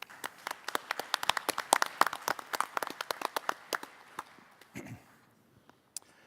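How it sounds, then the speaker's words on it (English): A conference audience applauds the hosts of an evening event with crisp, close individual claps, a busy cluster at first that thins and fades to a few stray claps and a soft rustle at the end. "let's give a rousing round of applause for our kind hosts"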